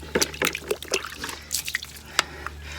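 Water rinses off a car during an exterior detail, with irregular splashes, drips and spatters against the body, moderately close and fairly quiet, in short bursts over a low steady hum.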